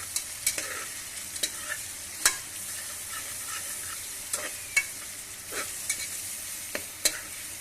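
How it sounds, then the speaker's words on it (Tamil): Ginger, garlic, mint and curry leaves for biryani stirred in a hot pan, a steady sizzle broken by repeated sharp scrapes and clicks of the spoon, close and clear with no talk. "இஞ்சி பூண்டு புதினா கருவேப்பிலை எல்லாம் போடலாம். எல்லாம் சேர்த்து போட்டுருக்கோம். நாங்கள் நல்லா கிண்டி விட்டுக்கணும்."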